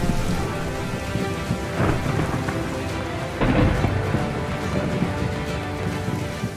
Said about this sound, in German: einer der wenigen Stürme des Jahres war im Anmarsch